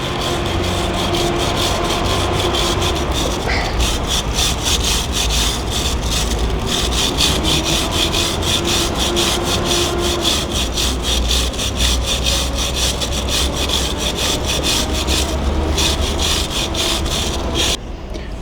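Close, loud scrubbing of a Yamaha R6 motorcycle chain, a dense rasping brush stroke repeated in steady rapid rhythm for the whole stretch with no talk over it.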